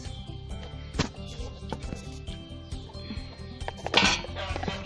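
Utensils scrape and clink in a pot as food is mixed in a village kitchen, with a steady background hum and a few sharper knocks, the loudest near the middle and toward the end.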